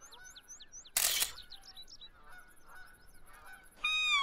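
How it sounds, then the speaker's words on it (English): Geese honk repeatedly in The Hunter: Call of the Wild, a run of fairly distant calls broken by one loud, sharp burst, with more honking and bird calls returning near the end. "I hear them too."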